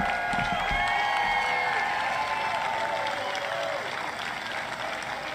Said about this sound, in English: I don't know what they're applauding right now.